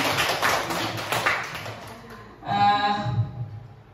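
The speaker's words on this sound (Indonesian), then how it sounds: "Tepuk tangan." An audience at a teacher orientation seminar claps, a lively burst of many hands that fades after two seconds, followed by a brief tonal sound.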